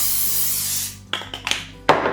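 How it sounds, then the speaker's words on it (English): Cooking spray hisses into a non-stick bread pan in a steady burst for nearly a second, followed by a few short, sharp spritzes and clatters, close and clear in a quiet kitchen. "I'm gonna give it a quick spray with my cooking spray"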